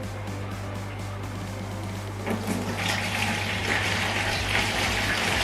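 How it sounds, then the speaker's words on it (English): Water siphoned out of a 4ft open-top river-style aquarium tank gives a steady low gush and hiss, growing a little louder and brighter partway through over a constant low hum. "So let's start siphoning some of the water out."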